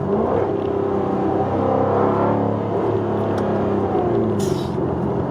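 A 2020 Jaguar F-Type R sports car engine rumbles and revs steadily close by, with a deep, throaty exhaust burble rising and settling over several seconds.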